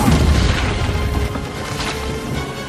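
A big cinematic explosion in a superhero film, a heavy rumbling blast with a dense low roar that fills the scene and slowly tails off, loud and close with no talk.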